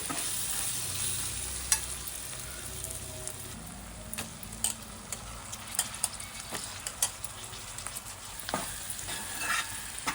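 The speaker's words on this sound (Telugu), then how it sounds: "ఆయిల్ మగ్గిన తర్వాత ఇప్పుడు ఇందులో వంకాయ ముక్కలు అయితే వేసుకోవాలండి" Brinjal pieces frying in hot oil with small raw prawns, a continuous sizzle with frequent sharp clicks and scrapes of stirring scattered across it, fairly quiet overall.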